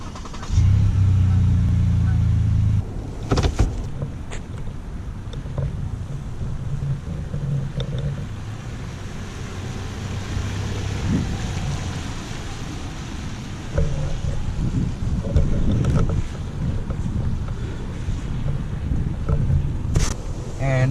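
Lexus RX350L three-row SUV on the road, with a steady broadband rumble of road and wind noise throughout and a few brief knocks, no talking over it.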